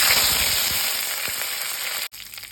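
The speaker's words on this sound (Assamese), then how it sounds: "ইফালে তেল অকণমান দি লৈছোঁ গোটা জিৰা কেইটামান দিছোঁ" Whole cumin seeds crackle and sizzle loudly in a little hot oil in a pan, a dense close frying hiss with scattered pops that cuts off abruptly near the end.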